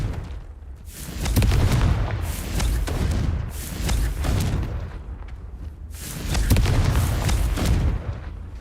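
Explosive Confringo spell blasts in a Harry Potter video game, a run of deep booming thuds that swell and fade in waves, loud and close with no voices.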